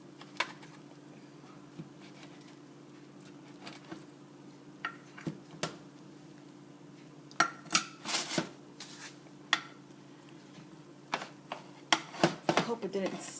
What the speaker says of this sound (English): I'm going to cut through it.